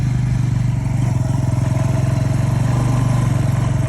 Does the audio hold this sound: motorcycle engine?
yes